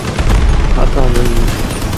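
Armed vehicles in the PS4 combat game Crossout exchange gunfire: loud, dense bursts of rapid shots and booms run continuously, with a voice heard partly over the shooting.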